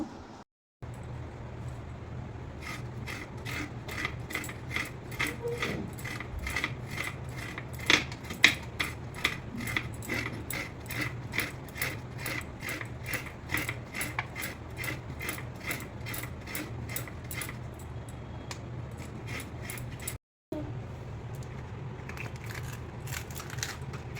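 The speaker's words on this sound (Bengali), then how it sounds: "এখন নারকেলটা আমি নারকেল কোড়া করে নেব" A coconut is grated by hand with a steady run of rapid scraping strokes that repeat rhythmically and close up for over twenty seconds, pausing briefly near the start and end, with no talking.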